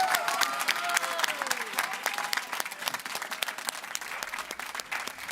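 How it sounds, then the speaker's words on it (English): A large crowd applauds at an election campaign headquarters on municipal election night in Winnipeg, steady sustained clapping filling the room with scattered cheers and murmured voices mixed in. "You hear applause,"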